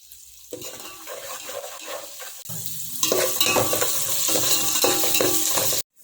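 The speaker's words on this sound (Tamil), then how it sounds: "சின்ன வெங்காயம் ஒரு 5-6 வெங்காயம் வெட்டி போட்டுருங்க. நல்லா வதங்கட்டங்க." Five or six chopped small onions sauté with a little salt in a pan for Chettinad fish curry, sizzling close and loud with stirring scrapes and utensil clinks, growing louder halfway, then cutting off abruptly near the end.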